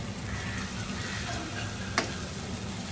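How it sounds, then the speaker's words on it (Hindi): Ginger, garlic and green chili paste frying in a pan with browned onions for rajma masala, a steady close sizzle with a brief clatter of stirring partway through. "अब उसमें हम अदरक, लहसुन और ग्रीन चिल्ली उसका पेस्ट डालेंगे।"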